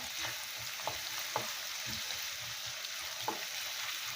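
Onions frying in oil for a country chicken curry, a faint, even sizzle with a few soft stirring taps, quiet and close with no speech.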